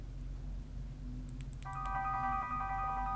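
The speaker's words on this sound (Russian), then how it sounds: "и звучит прекрасная музыка Равеля" A phone's multimedia app starts playing Ravel music, a thin melodic tone entering midway over a low steady hum after a few faint clicks, quiet and close.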